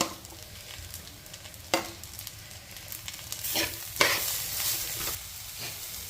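Onions fry with ginger garlic paste for prawn biryani in a pan, a continuous sizzle punctuated by several louder stirring scrapes that swell the hiss midway.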